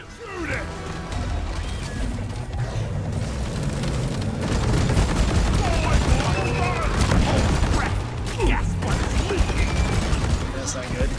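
The Gunner's heavy weapon fires in Deep Rock Galactic, a dense, sustained roar of rapid gunfire and booms that grows louder partway through, with no speech.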